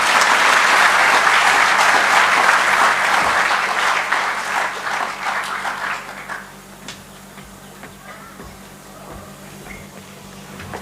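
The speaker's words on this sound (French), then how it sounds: "Sous vos applaudissements, s'il vous plaît." A crowd at the launch ceremony of the Blue Bay Beach Arena applauds loudly for several seconds, then the clapping thins and fades to scattered claps and a quiet room.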